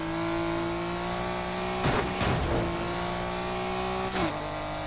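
Fully modified Subaru Impreza in Need for Speed Heat, steady engine drone held at high revs with short bursts of noise around the middle and near the end as it races, no talking.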